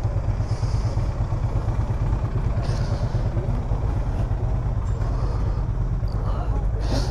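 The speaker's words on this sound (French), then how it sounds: "Ça fait pas mal de moto quand même" A group of motorcycles from a riding club rides together along a peninsula road, their engines a continuous close rumble with wind noise, and people talk over it.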